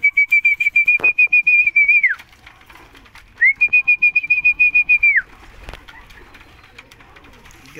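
Pigeons whistle close by in two long steady calls, the birds coming down to feed, with a soft thump between the calls and low background noise afterward.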